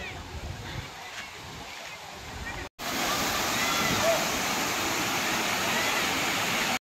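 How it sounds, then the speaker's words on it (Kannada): Dabdabe waterfall in Chikmagalur roars as a steady wash of falling water, faint at first and then louder and closer after a brief cut, with no talk. "ನೀವು ಇವಾಗ ನೋಡ್ತಿರೋದು ದಬ್ದಬೆ ವಾಟರ್ ಫಾಲ್ಸ್ ಅಂತ ಹೇಳ್ತಾರೆ ಇದಕ್ಕೆ"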